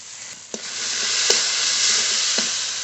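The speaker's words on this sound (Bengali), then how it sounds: "একটু জল দিয়ে ভালো করে কষিয়ে নেবো মশলা" A mustard and poppy seed spice paste with chopped tomato, green chilli and turmeric fries in a pan: a loud, steady sizzle with a few soft knocks and scrapes of stirring.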